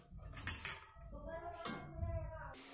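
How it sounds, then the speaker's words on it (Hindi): Soft clinks and scrapes of a metal utensil against a pan as fried gulab jamun are lifted out and slipped into sugar syrup, a few quiet knocks spread across a short stretch. "सभी गुलाब जामुन को हमने चाशनी में डाल दिया है"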